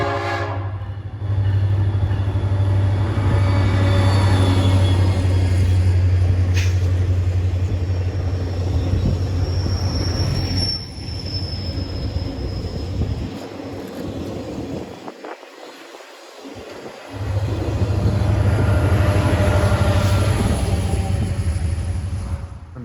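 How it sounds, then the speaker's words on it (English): The Alaska Railroad's northbound McKinley Explorer, a cruise passenger train, rumbles past loudly and close for most of the stretch with a brief horn note. The roar dips partway through, then swells again, and nobody speaks. "we intercepted the northbound McKinley Explorer, which runs with that cruise train consist we saw a few days ago at Anchorage Yard"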